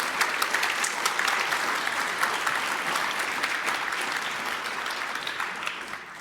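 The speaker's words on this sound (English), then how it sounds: "Please give a warm round of applause for them for the talk." Warm audience applause at the 38C3 hacker congress greeting two speakers before a net neutrality talk, a dense, sustained clapping from a large crowd that holds steady and eases off slightly toward the end.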